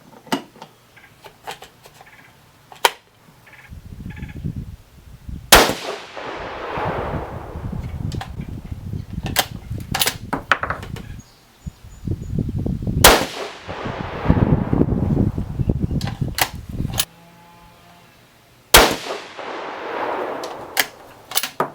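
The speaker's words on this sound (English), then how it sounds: "These are the first shots I've fired out of the gun since cleaning." A 6.5 Creedmoor rifle firing 140gr Berger Hybrid Target rounds with H4350 powder, magazine fed: three loud, sharp shots spaced several seconds apart, with metallic clicks of bolt cycling between them.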